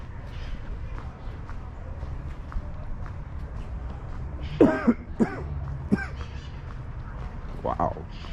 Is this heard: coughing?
yes